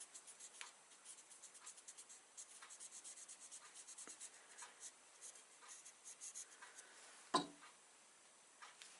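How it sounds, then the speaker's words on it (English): Felt-tip black marker rubbed in quick short strokes across the bevel of a lathe roughing gouge, a soft dry squeaky scratching in bursts, close and quiet, with one sharp knock near the end. "The way I do it is black marker"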